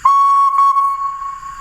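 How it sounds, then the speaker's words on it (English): Loud, crisp, clear steam whistle from an Oxford Rail NER J26 DCC sound model locomotive, one sustained steady blast that fades slightly toward the end, with no talk over it. "function 3 then is a playable whistle"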